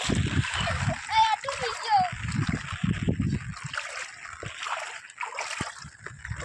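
Heavy rain has been pouring in a village, with water splashing and sloshing in bursts nearby, trickling under repeated close talk from people, some of it a voice.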